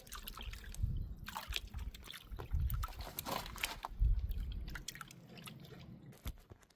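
Gold being panned from black sands in water, with close, faint sloshing, swirling and dripping splashes in an irregular rhythm, heard alone.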